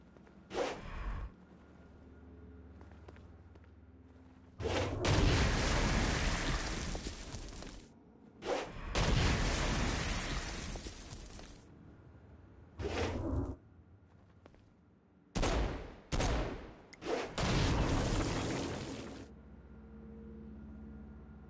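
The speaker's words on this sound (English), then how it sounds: "Stone Blast is especially useful on flying demons like this one" Stone Blast attacks and gunfire in the Saints Row: Gat out of Hell video game, loud bursts of blasting and shots in irregular clusters separated by quieter gaps.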